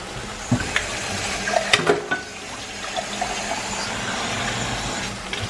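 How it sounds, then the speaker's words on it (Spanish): Water poured from a tap or jug into a pan of ground beef and potatoes, a steady close splashing fill lasting several seconds with small clinks near the start, no talking. "ahora le vamos a poner un poquito de agua"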